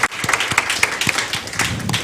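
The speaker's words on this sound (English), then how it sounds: "another round of applause to these amazing dancers" Audience applause for a group of dancers: a short burst of many hands clapping at moderate volume, dense and even, with a few louder individual claps standing out near the listener.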